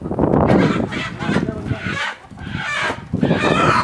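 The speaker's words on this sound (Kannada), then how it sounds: "ಸೌಂಡ್ ಕೇಳಿಸ್ತೈತಾ? ಹಿಡಿಯೋಕೆ ಹೋಗೋರು, ಅದಕ್ಕೆ ನಾಟಿ ಕೋಳಿ ಶೆಡ್ಡು." Country chickens cluck loudly and close by in a shed at a dhaba, a busy overlapping chorus of calls filling a small enclosed space.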